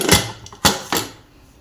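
A pressure cooker lid set in place: three close, sharp metallic clacks in quick succession within about a second, then quiet.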